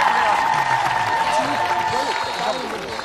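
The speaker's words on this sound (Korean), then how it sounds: "다시 한 번 더 축하의 박수 부탁드리겠습니다" Studio audience on a Korean TV talent show applauding a ssireum wrestling contest winner, a dense, loud wash of clapping mixed with tonal music and voices.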